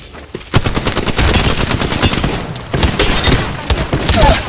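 Rapid automatic gunfire in the video game Apex Legends rattles in dense, loud bursts, with a brief pause before a second sustained stream of shots and a few sharp cracks.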